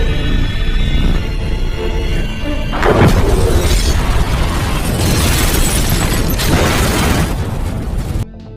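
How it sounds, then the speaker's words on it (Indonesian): A house blows up in a film sound effect: a loud, sustained roar of blast and crashing debris with several bursts of shattering, cutting off abruptly near the end. "bersiap-siap untuk meledakkan rumah tersebut"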